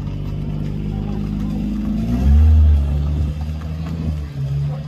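Toyota Supra sports car engine rumbling loudly with a deep low drone that swells as it revs midway, heard close up while people talk over it.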